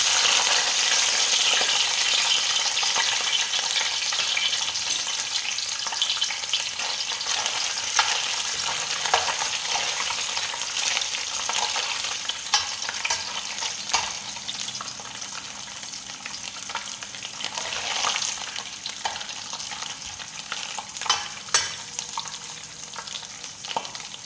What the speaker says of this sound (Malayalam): അരിഞ്ഞ് വെച്ച തേങ്ങാക്കൊത്ത് അതിലേക്കിട്ട് വരയ്ക്കാം